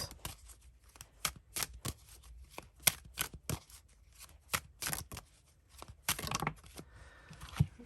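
Tarot cards shuffled and drawn during a reading, a quick run of crisp riffling flicks and slaps close up, with brief pauses and a denser burst of shuffling near the end.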